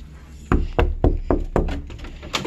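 Someone knocks on a door in a cartoon episode, about six firm, evenly spaced raps in steady rhythm, close and fairly loud, with no talking.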